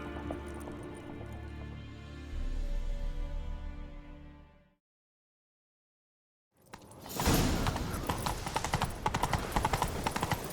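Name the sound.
horse galloping in video game The Witcher 3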